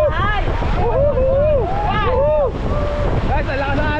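Rushing river rapids and gusting wind roar steadily against the microphone while excited voices shout and whoop over the churning waves during whitewater rafting in Cagayan de Oro.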